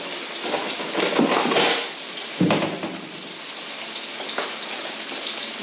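Redfish with Parmesan cooking in a hot pan gives a steady, crackling sizzle throughout, close and fairly loud, with a few louder spits and pops along the way and no talking.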